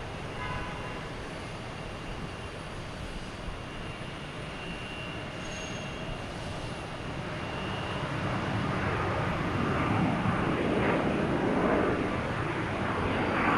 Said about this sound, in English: Here's United, 737 MAX 9, coming in from San Francisco.